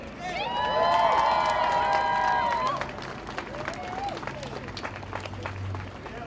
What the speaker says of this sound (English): Let's give them another round of applause for that awesome speech.